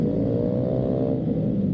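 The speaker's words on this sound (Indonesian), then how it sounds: "motor gue ke Jogja masih dengan kondisi yang berisik" A motorcycle engine, still noisy from a fault, runs steadily on a night ride through Central Java, a loud continuous drone with a low rumble and no voices.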